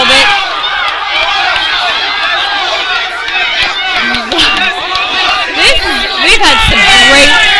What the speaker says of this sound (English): The crowd was so loud I missed the end of that round even.